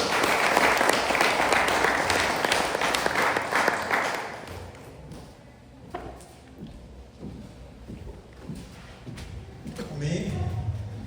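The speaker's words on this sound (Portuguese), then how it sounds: "E você pode aplaudir bem forte aí" Loud congregational clapping fills a church for the first few seconds, then fades away as scattered voices and talk take over, with a few sharp knocks and thumps.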